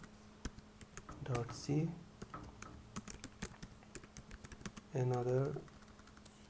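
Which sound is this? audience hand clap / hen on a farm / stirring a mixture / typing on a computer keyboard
typing on a computer keyboard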